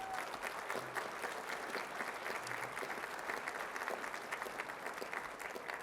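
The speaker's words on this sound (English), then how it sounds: "Can we give Gary a big round of applause?" A luncheon audience claps in sustained, dense applause that holds steady throughout, moderately distant with a roomy spread and no voices rising above it.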